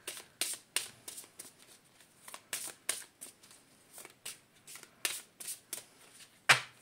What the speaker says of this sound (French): Mélangeons. On va tirer 3 cartes.